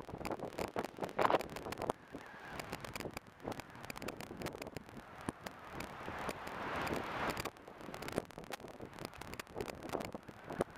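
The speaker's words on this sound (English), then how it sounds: "It's windy." Gusty wind buffets the microphone beside Upper Mesa Falls in faint, irregular bursts and rumbles, with no clear roar of falling water.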